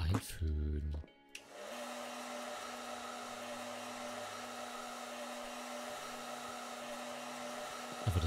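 A hair dryer in the video game Animal Shelter Simulator blows with a steady, even whir and a low hum. It runs continuously for about seven seconds after a brief burst of other noise at the start.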